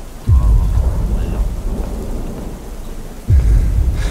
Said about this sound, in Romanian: Cred că plouă aici